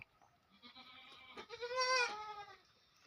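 A goat on a goat breeding farm gives one clear, wavering bleat that swells to a loud peak and then fades, after some faint scattered sounds.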